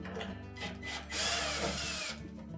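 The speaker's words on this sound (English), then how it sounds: "So our next step, remove these two screws on the top." A power screwdriver whirs in short bursts, then runs steadily for about a second, driving screws out of the console of a Frigidaire dryer. The sound is close and loud, with no talking.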